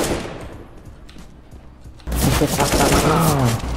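Counter-Strike CSGO gunfire in a competitive match: after a quieter stretch of scattered shots, a loud, dense burst of rapid automatic fire erupts and continues to the end.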